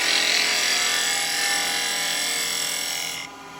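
A carbide bowl gouge makes a pull cut on wood spinning on a lathe, a sustained high whining scrape over the machine's hum that stops abruptly near the end, with no talking.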